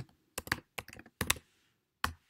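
Short burst of typing on a computer keyboard while a page name is entered, a few quick clusters of close, crisp key clicks with brief pauses between them, no talk.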